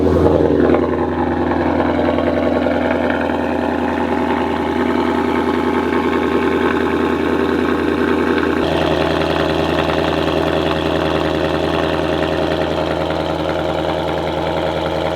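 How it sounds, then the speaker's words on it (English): A Ford Mustang engine cold-starts and settles into a steady, loud idle, with a rich low rumble running continuously and a slight shift in tone partway through as the revs drop. "Here's a little cold startup because why not?"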